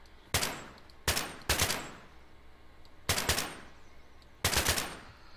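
Gunfire in Garry's Mod at a shooting range, five sharp, loud shots or short bursts spaced unevenly, each followed by a quick fading tail, with no talking over them.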